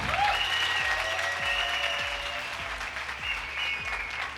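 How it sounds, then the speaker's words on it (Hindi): Indoor audience at a goal-setting training seminar applauds steadily, a loud, even wash of many hands clapping with a faint crowd murmur and low rhythmic thumps underneath. "अरे अपने लिए तो तालियां अच्छी बजा लो।"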